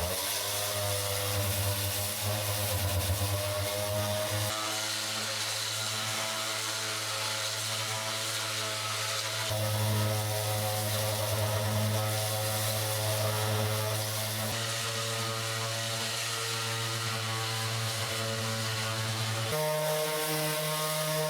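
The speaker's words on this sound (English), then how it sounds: "I'm going to start sanding away out this with some 40 grit" Power sander grinding a guitar body with 40 grit paper, a loud steady droning whine with a constant hum that shifts pitch slightly as pressure changes, running alone without speech.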